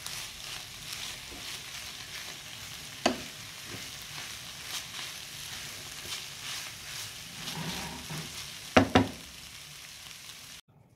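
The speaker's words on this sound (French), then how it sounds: "je mélange bien le tout, je laisse mijoter 5 minutes" Vegetable tartlet filling simmering in a pan, a quiet, continuous bubbling sizzle with a few soft spoon scrapes and taps as it is stirred.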